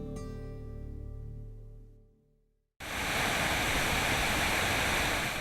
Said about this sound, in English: When it comes to waterfalls, It's the biggest one we've ever seen.